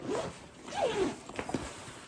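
A backpack's pocket zippers are pulled open in a few quick rasping strokes close by, one longer drawn-out pull followed by shorter tugs, with no talking over them.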